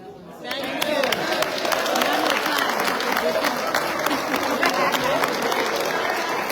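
A banquet and awards ceremony audience at a high school grand reunion applauds loudly, with dense, sustained clapping that swells in after a moment and holds steady, with some crowd chatter mixed in.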